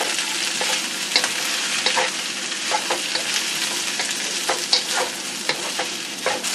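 Vegetables, including carrots, sizzle steadily in a frying pan for sausage fried rice while a utensil stirs them, making repeated scraping scrapes and soft clatter over a constant crackling hiss, with no talking.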